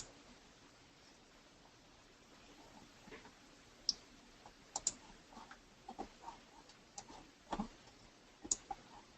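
Computer mouse clicks while editing pieces in design software for a tissue box holder. The clicks are faint, sparse and irregular, with a few sharper ones, alone in a quiet room.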